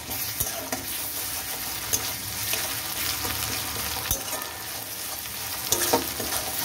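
Onions sizzle steadily in hot oil in a pan as ginger paste is added, with sharp intermittent scrapes and clicks of a stirring utensil over the continuous frying hiss.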